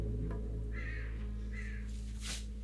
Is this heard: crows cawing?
yes